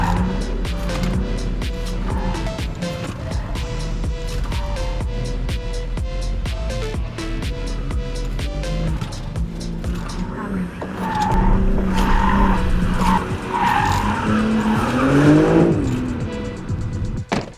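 A BMW M3 G80 runs a slalom on a track in hot weather, its tires squealing and skidding through quick direction changes, loudest in the later half, with music playing throughout and a voice speaking.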